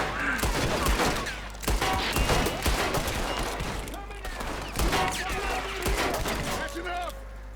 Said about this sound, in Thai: เขาไม่เปิดประตูมันก็ยิงใส่ประตูเหล็ก